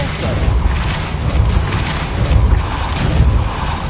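Depulso spell cast in the video game Hogwarts Legacy, heard as loud, low rumbling booms and whooshing bursts that pulse several times over a dense, noisy game soundscape.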